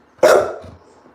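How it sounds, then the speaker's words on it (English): A single loud dog bark indoors, close by, short and sharp with a brief trailing tail. "Oh my God, and now he's barking"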